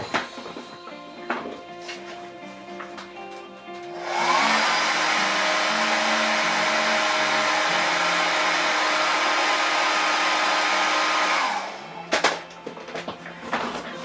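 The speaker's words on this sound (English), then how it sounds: "Hit it with the blow dryer real quick." A blow dryer is switched on to dry paint on a custom Jessica Rabbit statue, roaring loud and steady for about seven seconds before cutting off, with quieter handling noises before and after.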